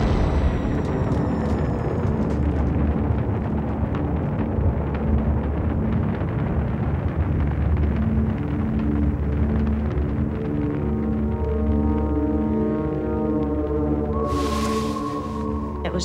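Explosives in burning trailers leave a deep, sustained rumble with a low roar and a long tail that fills the whole stretch, loud and heavy, with a short hiss burst near the end.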